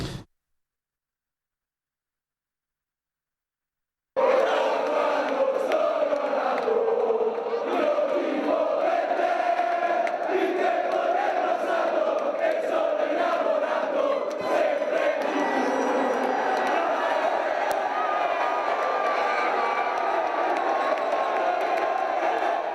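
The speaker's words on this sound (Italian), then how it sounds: "Sono le 22:49 quando davanti a Porta San Tommaso esplode l'urlo di gioia dei tifosi" Treviso basketball fans roar with joy in front of Porta San Tommaso after the team's promotion to Serie A, a sudden loud burst of crowd cheering and shouting after a few seconds of silence, sustained for about eighteen seconds.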